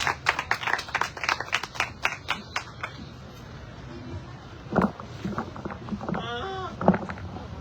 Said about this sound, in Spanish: pido un aplauso fuerte para ellas dos